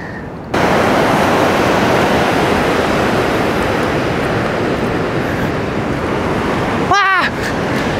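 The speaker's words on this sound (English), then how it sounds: "Big waves coming." Continuous roaring surf of ocean waves breaking on shore, loud and close, with wind buffeting the microphone and a brief shout near the end.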